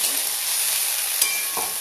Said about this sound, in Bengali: দেখো এই যে আলু ভাজা রান্না করছি।